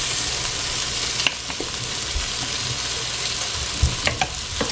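Okra frying in a pan, a steady loud sizzle and crackle of oil throughout, with a few soft clinks and stirring bumps and no voices.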